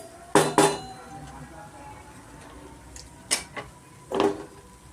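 Mung dal and rice with spices are stirred in a pan, a spoon scraping and knocking against the metal in a few sharp clinks and scrapes spaced across a quiet background.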